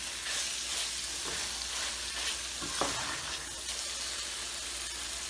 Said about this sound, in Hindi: फ्रोज़न मटर है, इसलिए थोड़ा सा भून के डालेंगे।